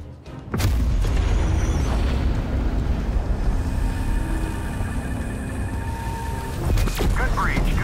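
An artillery strike in Call of Duty Black Ops Cold War sets off a loud, sustained rumbling explosion that roars on for several seconds, with a second burst near the end and game voices talking over it.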